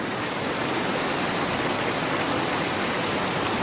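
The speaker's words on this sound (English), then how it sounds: "This is the lovely river that we are hiking by." A river in the woods rushes over rocks beside a hiking trail, a steady dense broadband wash of flowing water heard close and loud without pause.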